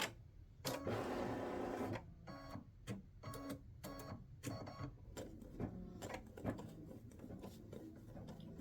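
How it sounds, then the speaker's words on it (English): A home embroidery machine stitching out a dog-themed greeting card design, with a steady mechanical whirr and a run of fast repeated needle taps, then irregular clicking bursts as it moves between stitches, close and alone with no talk. "Now my machine says it takes 6 minutes stitching time"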